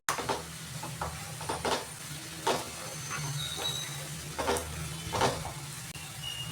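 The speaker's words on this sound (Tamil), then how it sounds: "வெங்காயத்தை ஒரு அஞ்சு நிமிஷம் லோ ஃப்ளேமில் வச்சு கோல்டன் ப்ரௌன் கலர் ஆகிற அளவுக்கு வதக்கி விட்டுக்கோங்க" Onions sautéing on a low flame for a quick egg curry, with a soft, steady sizzle broken by intermittent scrapes and stirring taps of a spoon in the pan.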